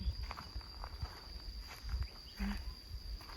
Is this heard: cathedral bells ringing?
no